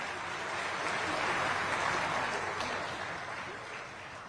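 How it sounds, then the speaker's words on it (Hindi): Steady applause from a large audience at a live public event in Kushinagar with the Prime Minister and Chief Minister, a dense wash of clapping that swells slightly in the middle and holds throughout. "जोरदार तालियों के साथ"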